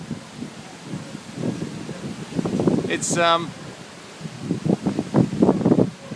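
Wind gusting hard through trees near Tangambalanga, a broad steady rush of rustling leaves and wind noise running throughout, with someone talking over it.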